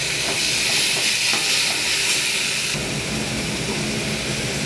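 Yogurt goes into a hot pan of spice mixture with salt, cumin powder and coriander powder for a potato curry, giving a loud, steady hiss and steamy sizzle that swells after the addition, with no talking.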